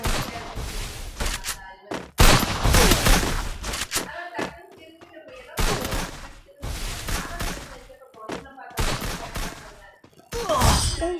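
Gunfire in a shooting video game scoring headshots, with dense bursts of rapid shots in several loud volleys separated by brief pauses, close and punchy throughout.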